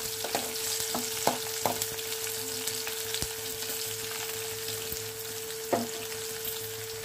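Green chilies and dried chilies frying in hot tempering oil for a coconut chutney, giving a steady soft sizzle with a few sharper pops and stirring clicks spread through the clip, close by and with no talking.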